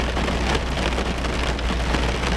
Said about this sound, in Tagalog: Ginising kami ng malakas na ulan.